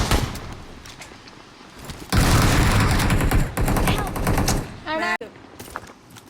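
Rapid bursts of automatic gunfire ring out during a gun fight in a video game, loud dense volleys with a brief break, alongside voices.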